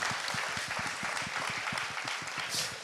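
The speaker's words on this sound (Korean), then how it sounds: "여러분 박수 한번 주세요." Studio audience applauding on a Korean talk show, a steady wash of clapping that holds evenly from start to finish at moderate volume, with no talk over it.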